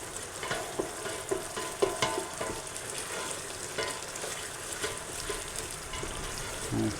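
Massaman curry paste is stirred in a hot oiled pan, giving a steady close sizzle broken by soft irregular scrapes and taps of the spoon, with no talking.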